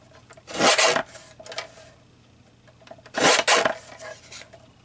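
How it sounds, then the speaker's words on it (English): A paper trimmer slices out a picture in two loud, rasping strokes with a pause between, close by and with no talking. "it's the noisiest trimmer I've ever had."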